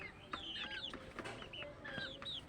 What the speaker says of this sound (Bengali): এগুলো আবার ফার্মি মুরগি